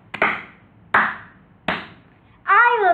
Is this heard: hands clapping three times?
yes